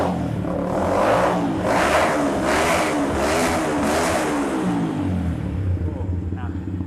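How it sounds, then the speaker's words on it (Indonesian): A custom Yamaha Vixion tracker motorcycle fitted with an RMBW exhaust revs in several loud, close throttle blips over a rumbling idle. "gimana nih menurut kalian nih suara knalpot RMBW exhaust yang kita pasangin ke sini?"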